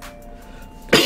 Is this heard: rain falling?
no